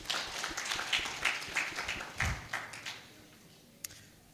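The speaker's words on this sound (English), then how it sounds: "Please give them another round of applause." Audience applause at a Uganda diaspora investment convention: a dense, fairly steady round of clapping that gradually fades out, ending with a single sharp tap.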